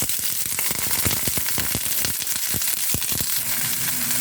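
Chopped garlic fries in hot oil during the making of a potato curry, giving a loud, close sizzle full of rapid crackles and pops that thins slightly toward the end.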